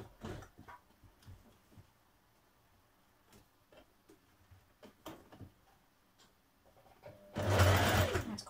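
A sewing machine stitches through thick cardigan fabric, first with quiet slow ticks and clicks of hand-walked stitches, then a loud close burst of rapid running stitching at the end.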